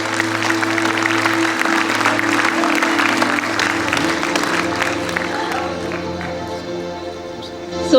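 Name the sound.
parents applauding at school event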